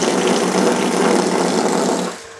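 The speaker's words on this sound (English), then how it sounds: "So now it's pumping it up, pumping it up, pumping it up." A pump pushing water through a gravity-fed home plumbing system, a loud steady rushing gush of flowing water that holds evenly for about two seconds and then drops away abruptly.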